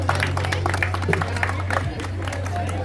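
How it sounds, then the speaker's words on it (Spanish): A crowd applauds at a town coronation ceremony welcoming a young festival princess, with scattered claps spread through the clip over a steady low electrical hum from the sound system. "Recibámosla con aplauso, mi gente"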